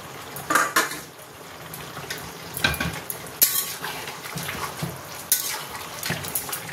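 Fried onions (berista) are stirred into chicken biryani masala in a pot, with repeated spoon scrapes and clanks against metal over a soft, steady sizzle.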